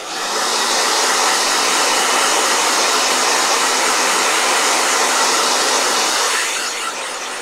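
A blow dryer runs loud and close as a steady, broadband rushing roar for several seconds, easing slightly at the very end, with no voices over it.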